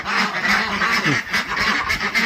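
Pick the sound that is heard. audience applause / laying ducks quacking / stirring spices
laying ducks quacking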